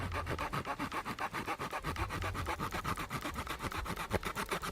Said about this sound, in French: pour plus de précision, on va utiliser une scie